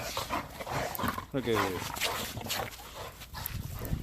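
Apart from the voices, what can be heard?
dogs barking and whimpering in snow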